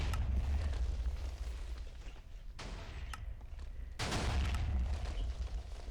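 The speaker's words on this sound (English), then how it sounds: "The TNT will blow up in midair." A fully automatic Minecraft TNT cannon fires and its TNT explodes in midair, giving deep, rumbling booms that roll on continuously, with sharper blasts standing out near the middle and end, loud and close.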